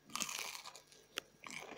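A bite into crispy herb-crusted fried sea fish with parsley and dill, a few sharp close crunches followed by quieter chewing, no talking.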